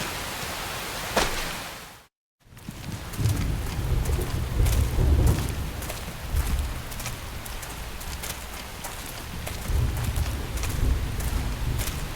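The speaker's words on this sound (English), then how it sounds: "The rain's starting to let up, just in time for sunrise." Steady rain and rolling thunder in the video game Xenoblade Chronicles X, a continuous hiss with deep rumbles, briefly cut off by a silent gap before the downpour resumes.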